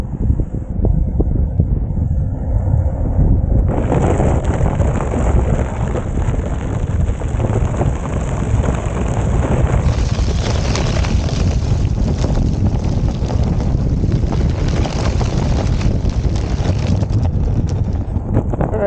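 Uditer S3 budget electric skateboard rolling over a gravelly area, a steady loud crunching rumble with heavy wind buffeting throughout, no talk.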